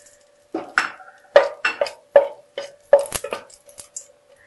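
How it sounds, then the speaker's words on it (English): Red chilies drop into two tablespoons of hot oil in a pan for a water lily stem stir fry, giving a string of sharp clattering pops and clinks with faint sizzling between them and a steady tone running underneath. "Now heat 2 tablespoons of oil. Now add the red chilies."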